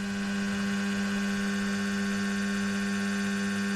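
A Warco WM180 lathe motor spinning at low speed, around 200 RPM, produces a steady, even electrical hum with a constant tonal whine and no change in pitch, heard alone and close.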